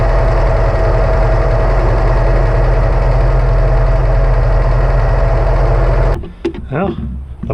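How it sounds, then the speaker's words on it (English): Snowplow hydraulic pump running on a rusty Jeep CJ-2A, a steady loud droning hum with engine vibration that holds for about six seconds, then cuts off and leaves a few faint clunks. "the pump is moving fluid"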